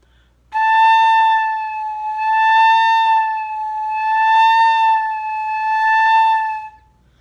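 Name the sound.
flute playing slow siren-like pitch slides up and down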